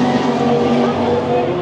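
Schaeffler-sponsored Audi DTM race car running at a circuit, a loud steady engine roar with a tonal whine, close by and continuous.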